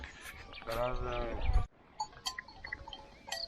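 A single sheep bleats loudly and close, a wavering cry, followed by quieter outdoor sounds and faint distant noises.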